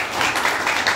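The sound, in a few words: audience applause for Dr. Yakub Nasuha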